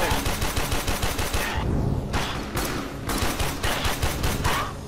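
Rapid automatic gunfire from the video game Warframe, bursts of fast repeated shots crackling in steady rhythm, loud and close with brief gaps between volleys and no talking.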